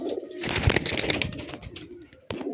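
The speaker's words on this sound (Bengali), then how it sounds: "এই হচ্ছে পায়রা" Andhra fulsira tippler pigeons coo close to the microphone at a pigeon seller's board house, loud throaty phrases with bright rustling bursts, fading briefly before resuming.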